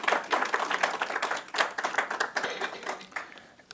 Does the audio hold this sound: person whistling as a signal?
no